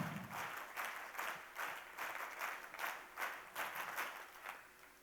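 An audience at an international women leaders' convention claps together in unison, about a dozen evenly spaced, rhythmic bursts heard fairly far off in a large room.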